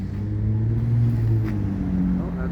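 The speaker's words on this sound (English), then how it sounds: "Here comes the traffic now" Road traffic in Kamloops on Canada Day rolls by as a steady low rumble of car engines, moderately close and continuous, with faint voices in the background.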